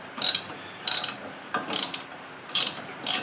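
A 10 mm wrench ratchets on the stud nut of a Dodge Dakota lower ball joint, five short bursts of quick metallic clicking with brief pauses between, close and clear with no talking.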